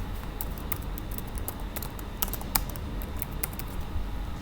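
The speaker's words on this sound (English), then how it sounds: "Just gonna type that in here" Quick, irregular clicking of keys on a computer keyboard, close and fairly quiet, with a few louder strokes mixed into a steady patter.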